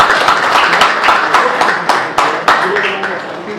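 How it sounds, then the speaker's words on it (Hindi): A crowd claps for a child at a public gathering, a continuous stream of close, sharp hand claps with some stronger strokes, mixed with background voices and chatter throughout. "जोरदार तालियां भाई बच्चे के लिए।"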